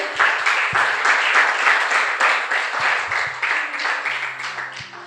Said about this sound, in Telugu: చప్పట్లు కొట్టి దేవుని నామాన్ని మహిమపరుద్దాం గట్టిగా